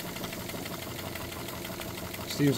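A small model steam engine fed by a boiler runs steadily, a rapid even chuffing and mechanical clatter holding at one level throughout, close by with a brief louder bump at the very end.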